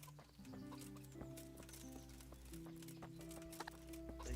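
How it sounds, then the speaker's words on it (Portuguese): Chickens clucking in a medieval village in Kingdom Come: Deliverance, soft scattered clucks mixed with horse hooves, distant rustling and a low musical drone, no talking. "Tem galinha, tem."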